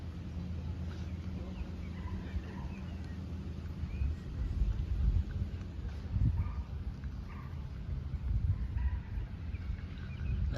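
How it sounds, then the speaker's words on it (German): Wild birds call outdoors near Stansstad in Nidwalden, Switzerland, with faint scattered chirps over a steady low rumble of ambient background noise. "Also man hört die ganze Zeit Vögel hier."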